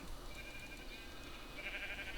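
A sheep bleats in a survival video game, a faint, drawn-out wavering call over a steady background hum of game sound.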